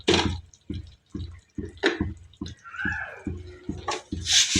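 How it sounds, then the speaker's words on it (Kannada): Cooking oil pours into a pan on a gas stove for frying, with a steady series of close glugging pulses and a soft liquid trickle, without any talking. "ಫ್ರೈ ಮಾಡೋಕ್ಕೆ ಎಷ್ಟು ಬೇಕೋ ಅಷ್ಟು ಆಯಿಲ್ ಹಾಕ್ಕೊಳ್ತೀನಿ."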